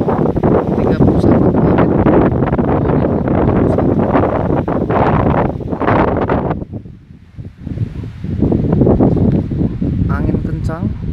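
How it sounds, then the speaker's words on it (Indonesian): Strong gusty wind at Samosir with drizzle, roaring loud and close against the microphone almost throughout, easing briefly around the middle before surging again, with a voice speaking briefly. "Angin kencang"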